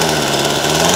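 Homelite Mightylight 26SS chainsaw engine revving, a loud close buzzing two-stroke drone held for one brief second, no voices.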